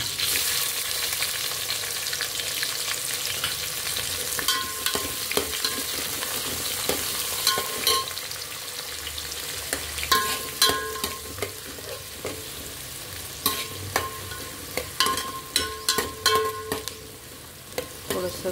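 Onions fry in hot oil with coriander leaves for a mixed chicken biryani, browning under a continuous loud sizzle while a spoon scrapes and stirs in frequent uneven strokes that grow sharper toward the end; no voices.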